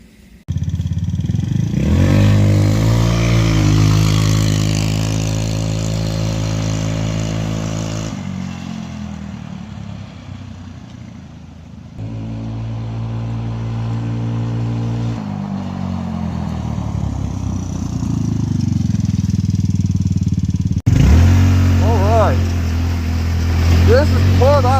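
A Hammerhead GTS 150 is ridden after a spark plug change, its small engine droning loudly and steadily with rising and falling revs and wind rush.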